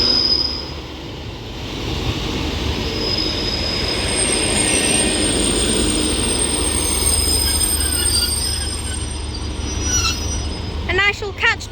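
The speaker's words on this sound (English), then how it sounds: "This is forming 1432 Northern service to Manchester Oxford Road from Liverpool Lime Street with a 150." A Northern Class 150 diesel train running as a double unit at Mossley Hill on the Liverpool branch rumbles steadily and loudly close by, with high wheel squeal along the rails and a few sharp squeals near the end.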